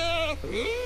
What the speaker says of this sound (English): And all of the sheep noises that you hear, they're sheep actually coming out trapped.